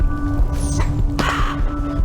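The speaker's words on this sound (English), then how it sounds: "there's birds over here. Let's get the birds." Birds in the video game Donut County give two loud, harsh caws over a steady background hum, one short and one longer.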